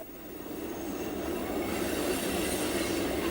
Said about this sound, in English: The train that's going by right now is